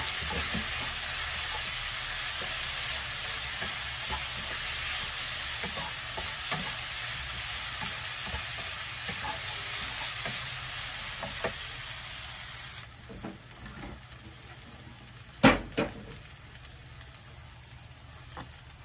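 Green mango bagoong fried rice being stir-fried in a pan, with a steady close sizzle and scraping stirs throughout, quieting near the end into a few sharp utensil knocks.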